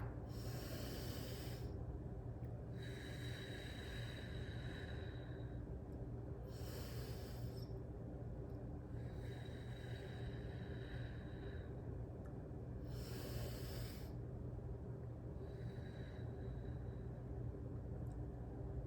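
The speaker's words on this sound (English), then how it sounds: "Let's do our deep breathing." Slow deep breathing, drawn in through the nose and let out through the mouth, repeats in about four even cycles, each breath a soft airy hiss over a steady low background hum.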